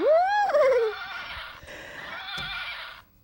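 A Black Beauty toy horse lets out a loud, close recorded neigh, a rising whinny that quavers and trails off over about three seconds before stopping.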